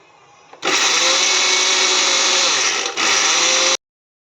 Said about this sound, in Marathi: आता आपण हे सर्व मिक्सरमधून बारीक करून घेऊया